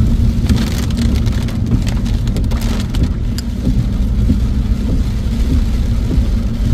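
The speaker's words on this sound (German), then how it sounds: "Ja, ich hab Regen schon dabei." Steady rain falls near a BMW on a drive to a classic car meet in Langenzenn, producing a constant dense patter with scattered sharper drops and a low rumble underneath. No one speaks.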